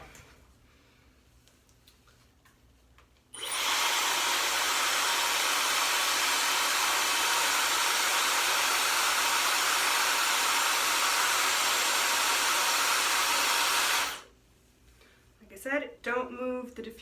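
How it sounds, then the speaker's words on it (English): A hair dryer fitted with a diffuser dries curly hair, switching on abruptly into a loud, steady broadband roar that holds for about ten seconds before cutting off, with quiet talk before it and after it. "you don't need to watch 20 minutes of me diffusing my hair"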